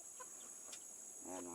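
A live chicken set out as bait in a civet trap gives a few soft clucks near the mic, with a louder squawking call at the end, over a steady high hiss.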